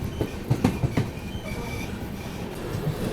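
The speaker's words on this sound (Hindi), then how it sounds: "सिरपुर कागजनगर रेलवे स्टेशन से अपनी ट्रेन तो निकल रही है" The AP Express pulls out of Sirpur Kagaznagar station, heard from on board as a steady rumble with rhythmic clickety-clack wheel beats over rail joints and a faint squeal, moderately loud with no voices.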